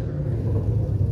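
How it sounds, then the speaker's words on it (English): A loud Ford Mustang pulls away from a car meet, heard as a steady low exhaust rumble at moderate distance for about a second, no voices. "And we got a freaking loud Mustang leaving right now."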